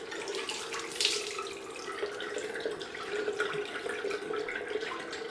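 Cold water runs steadily from a tap for rinsing after a shave, a close continuous gushing hiss with light splashing changes as hands move through the stream.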